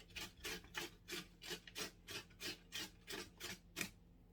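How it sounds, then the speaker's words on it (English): Food rasped against the coarse side of a box grater, a steady rhythmic scraping of about a dozen even strokes, close and fairly quiet with no talking. "I'm using the coarse side of the grater"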